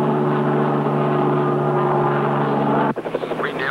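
A helicopter's steady rotor and engine drone holds loud and constant, with strong low harmonic bands. Near the end it breaks off abruptly into a rougher, sputtering texture.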